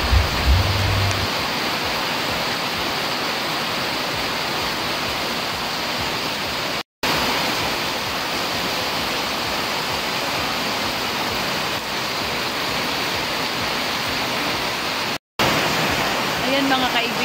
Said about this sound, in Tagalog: ang lakas-lakas ng ulan ngayon